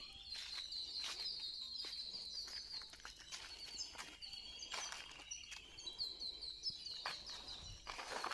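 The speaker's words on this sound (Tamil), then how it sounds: "குருவிங்க சத்தம் ஹெவியாகவே இருக்குது. கீச் கீச் கீச்சுன்னு அதை கேட்குறப்பே செம்மையாக இருக்குது." Sparrows chirp heavily around a farm at the foot of the Kolli Hills, with busy overlapping high tweets and repeated bursts of calls, some wing flaps, moderately near and steady throughout.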